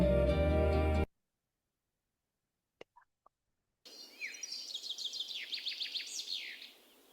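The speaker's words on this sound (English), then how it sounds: "And begin the bird song." Recorded birdsong plays softly, a run of quick bright chirps and trills after a short quiet gap with a few faint clicks, following a brief burst of music.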